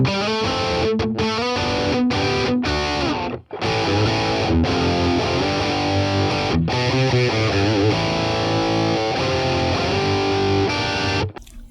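Electric guitar played through a Boss Katana amp on its R-Fire Modern model, a heavily distorted, mid-heavy tone with slightly tamed top-end sizzle, strummed chords and riffs ringing loud and continuous with a few brief stops.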